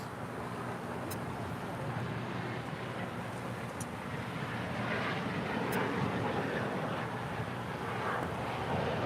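United Airlines airplane at LAX, a steady broadband roar of jet engine and rushing air, continuous and fairly loud, swelling slightly toward the end with a few faint high ticks.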